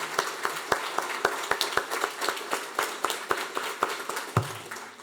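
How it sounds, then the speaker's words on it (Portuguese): Audience at a public hearing clapping, a sparse, uneven run of distinct hand claps spread over five seconds, fairly close and moderately loud, with no talk over it. "Uma salva de palmas para esse homem,"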